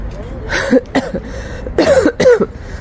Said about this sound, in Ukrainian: Кашляю, і воно таке, боже, така гедота.